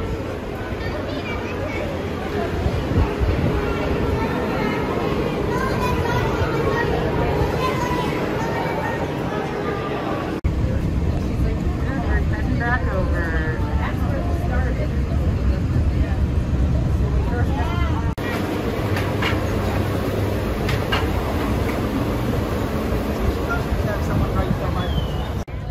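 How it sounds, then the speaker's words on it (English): Riding the Magic Kingdom monorail at night, with a steady close rumble and whine of the moving train filling the cabin while voices chatter throughout. "let's hop on that monorail next"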